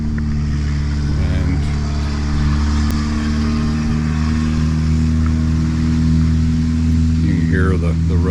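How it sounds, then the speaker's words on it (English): Constant road noise from highway traffic near an RV campground at Talona Ridge, Georgia, a loud, steady low rumble with droning engine tones and a passing vehicle's rising whine near the end. "Hear the road noise."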